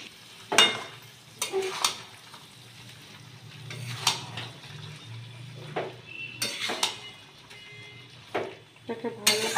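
Cabbage curry is stirred in a pan with a metal spatula, sending sharp, irregular scrapes and clanks over a low, continuous sizzle at close range.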